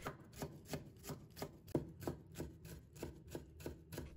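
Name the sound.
knife chopping red chili pepper into small pieces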